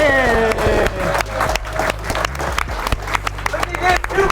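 Office staff in a sales boiler room clap and cheer in scattered bursts of applause, sharp hand claps mixed with shouting voices and lively chatter.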